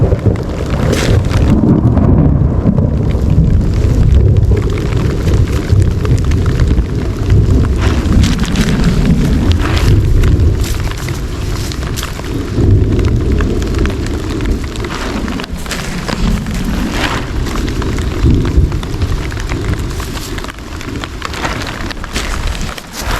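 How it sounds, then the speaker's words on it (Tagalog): A heavy thunderstorm soaks a chili pepper garden, rain drumming steadily on surfaces while deep, loud rolls of thunder rumble through the low range for much of the stretch. "Lakas po ng kulog"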